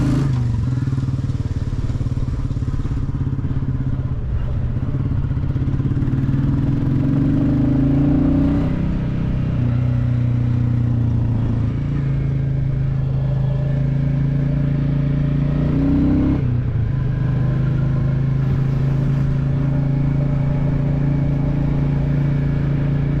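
A Royal Enfield Classic 350 motorcycle rides up North Berwick High Street, its steady low single-cylinder thump running throughout, rising and easing with throttle changes and gear shifts, loud and close with no talk.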